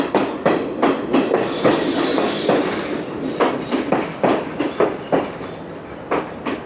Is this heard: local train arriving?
yes